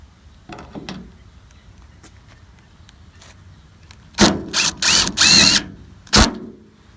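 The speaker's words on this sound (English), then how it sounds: "I'm gonna fill up all the holes with screws just for extra reinforcement." A power driver sends screws into pre-drilled holes in a service body door as part of a spring catch repair, with a few short whirring bursts close up after a quiet stretch.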